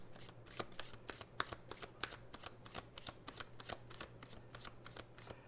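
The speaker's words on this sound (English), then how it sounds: "when I shuffle, not many cards just pop out on their own" Tarot cards being shuffled by hand in a steady run of crisp riffling taps and slaps, close and fairly quiet, with a low steady hum underneath and no voices.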